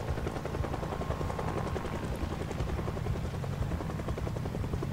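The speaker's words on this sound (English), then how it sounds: "look how that chopper is just tracking all of it" Helicopter in the zombie survival game Project Zomboid, a steady loud rotor chop pulsing rapidly throughout with a constant engine drone and no voices.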